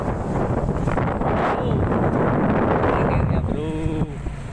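Strong wind on the Tangkuban Perahu volcano, roaring and buffeting steadily and loud against the microphone throughout, with faint voices briefly underneath near the end.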